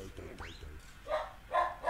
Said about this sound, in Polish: No nie szczekaj! Nie czemu szczekasz? Nie szczekaj!